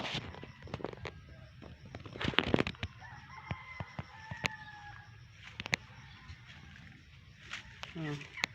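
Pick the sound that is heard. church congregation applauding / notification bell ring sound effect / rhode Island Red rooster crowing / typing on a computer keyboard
rhode Island Red rooster crowing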